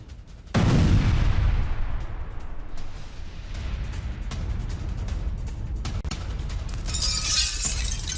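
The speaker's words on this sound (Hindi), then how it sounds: "आईडीएफ की विध्वंसक बमबारी से दहला यह शहर" An explosion from Israeli bombardment of the Lebanese city of Tyre: a sudden loud, heavy blast followed by a long rumbling roar and debris noise, with another crackling burst near the end, no voices.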